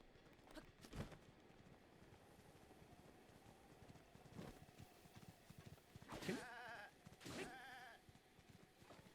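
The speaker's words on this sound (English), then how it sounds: "Hey, there's a goat up here." A goat in The Legend of Zelda: Breath of the Wild gives two short, wavering bleats near the end. They are quiet and sit over faint, scattered ambient game sounds and soft footsteps.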